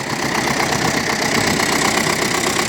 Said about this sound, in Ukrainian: мтз працює повним ходом